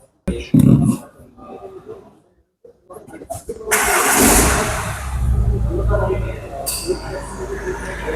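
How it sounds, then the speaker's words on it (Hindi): A 2024 Tata Harrier facelift Dark Edition starting up, with an early clunk, a pause, then the engine catching and settling into a loud steady idle; someone talks over parts of it. "Let's start the car."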